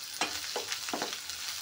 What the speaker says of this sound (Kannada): ಇವು ಫ್ರೈ ಆಗ್ಯಾವ್ರಿ, ಈರುಳ್ಳಿ ಹಾಕ್ಕೊಡ್ತೀನಿ.